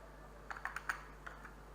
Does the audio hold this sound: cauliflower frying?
no